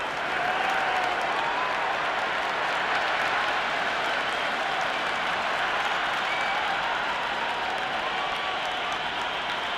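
A dense, steady wash of crowd applause fills a cricket ground in the Cricket 26 video game during a Second Test Ashes match, holding loud and even throughout with no talk over it.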